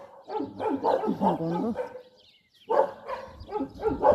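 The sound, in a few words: dog barking on a hill farm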